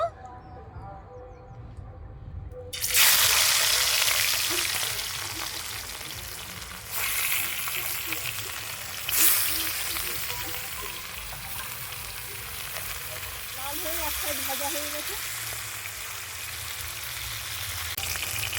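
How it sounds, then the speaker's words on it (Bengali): Rohu fish pieces dropped one by one into hot oil in a wok burst into a loud, close sizzle, with fresh surges of crackling as more pieces go in, then a sustained hissing fry. "তেল গরম হয়ে গেছে আমি এক এক করে মাছ দেবো"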